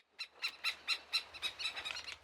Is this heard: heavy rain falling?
no